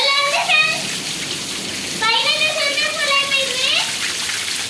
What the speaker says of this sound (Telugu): వాన మాత్రం దద్దరిల్లుతుంది